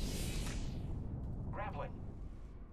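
Airstrike explosions rumble in Apex Legends, a loud, sustained low roar with a bright burst at the start, and a voice speaks briefly over the blasts.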